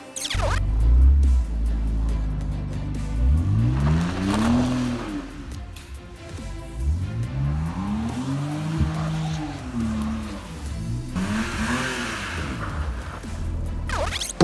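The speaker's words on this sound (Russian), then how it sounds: "Мы аккуратненько загнали нашу машину в покрасочный цех." A rusty car undergoing bodywork is driven into a paint shop, with engine revving in rising and falling sweeps, tires squealing and loud motor noise throughout at close range.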